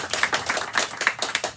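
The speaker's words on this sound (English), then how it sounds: "please give a round of applause for our guests this evening, Alison Tatlock and Jessie Sheehan." An audience claps for guests at an evening bookstore event, a dense, steady patter of many hands close by with no voices over it.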